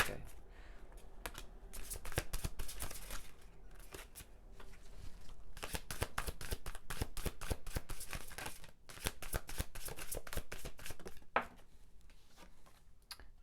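Tarot cards are shuffled over and over in quick riffling, slapping bursts, close and fairly loud, with a voice speaking at times underneath.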